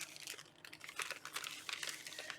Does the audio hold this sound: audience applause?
no